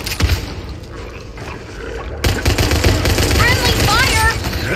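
Automatic gunfire in the cooperative zombie shooter Back 4 Blood, loud rapid bursts layered with game sound effects and creature roars, with character voices speaking over the action.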